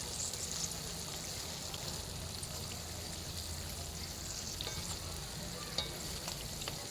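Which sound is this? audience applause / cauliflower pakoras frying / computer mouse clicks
cauliflower pakoras frying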